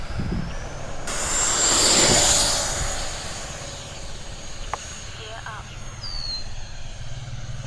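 An RC model jet plane fitted with an afterburner takes off, its engine roar swelling to a loud, rushing peak over a couple of seconds, then settling into a steady, fainter whine as it climbs away.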